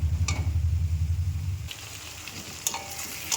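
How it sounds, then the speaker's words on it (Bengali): Chopped ginger, garlic and green chilies sizzle in a hot pan for a tadka, with a steady crackle and rhythmic stirring scrapes at the start. The sizzle then settles into a softer, continuous fry. "এটাকে আদা রসুনটাকে সুন্দর করে একটু ভেজে নেব"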